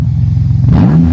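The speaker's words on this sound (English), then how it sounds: "We have some shitty-ass Pontiac with a shittier muffler." A Pontiac engine blipping through a worn, poor muffler, a loud, close, raspy pulsing exhaust that rises sharply in pitch in a short rev.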